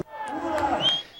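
A few hundred people cheering the leadership of the self-declared Donetsk People's Republic at a night gathering, a brief swell of voices and shouts, moderately loud and somewhat distant.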